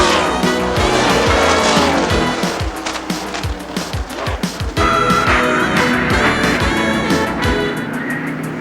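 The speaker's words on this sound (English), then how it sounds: "a crash on the main straightaway as Davey Ellison goes into the wall" Roaring stock car engines and sliding tires during a race crash on the main straightaway, loud and continuous with sharp scraping and impact bursts as a car goes into the wall, no talk.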